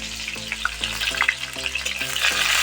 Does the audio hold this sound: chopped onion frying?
yes